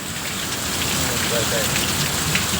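During a storm, loud, heavy rain drenches everything, including the flowers, in a thick, continuous roar of water close by that barely varies over the short stretch.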